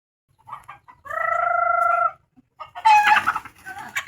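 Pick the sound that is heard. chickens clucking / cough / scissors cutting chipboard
chickens clucking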